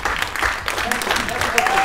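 An audience at a Golden Globe Race arrival stage event applauds a sailor, with brief clapping under a live announcer's voice.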